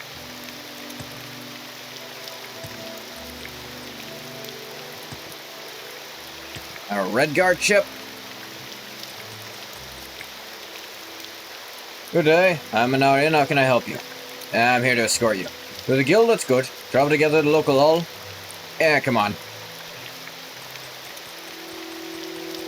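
Steady rain in the video game Project Cyrodiil, a soft continuous hiss running throughout, with a conversation between voices over it in several bursts.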